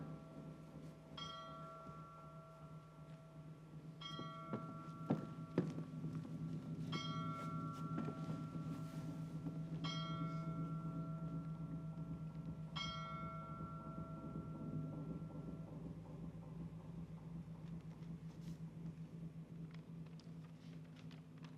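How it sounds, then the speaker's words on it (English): Church bells ringing in a town during wartime: repeated bell strikes at spaced intervals, fairly faint and distant, over a steady low rumble of background noise. "What's up with those damn bells?"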